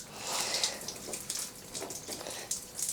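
Water sprinkled over the leaves of a potted Hoya houseplant, a faint irregular patter and hiss of droplets in short bursts, with no talking.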